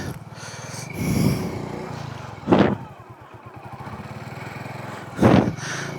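A motorcycle engine runs after plunging through deep floodwater in the Bashu Valley. It makes a steady low putter, broken by three louder, breathy bursts spaced a few seconds apart.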